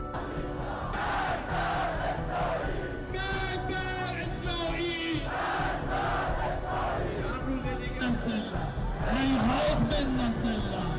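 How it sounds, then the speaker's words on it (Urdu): A large crowd chants political slogans in the streets of Iran, massed voices rising and falling in a continuous roaring cadence with occasional yells, loud and sustained across the clip. "ایران کی سڑکوں پر ڈیتھ ٹو امریکہ اور ڈیتھ ٹو اسرائیل کے نعرے گونجنے لگے۔"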